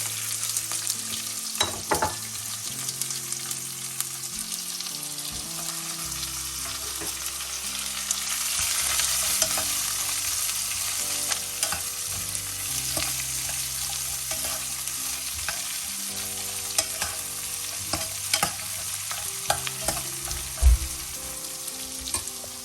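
Onion and garlic fry in oil tempered with carom seeds for an Indian-style pasta, a steady close sizzle with scraping stir strokes throughout, no talking.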